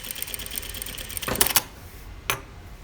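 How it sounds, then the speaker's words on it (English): A sewing machine stitching a corner seam at one centimetre seam allowance, a soft mechanical whir with two louder bursts of stitching close by. "I'm ready to put the foot down and continue stitching"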